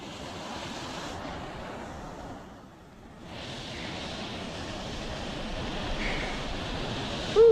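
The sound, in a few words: wind outdoors while fishing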